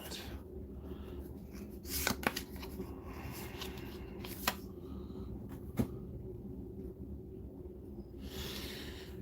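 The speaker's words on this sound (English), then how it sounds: "So I want to make sure I got it shuffled a bit." A deck of cards is shuffled at a tabletop game of D&D Tomb of Annihilation, soft rustling and riffling with a few sharp snaps, close and steady throughout.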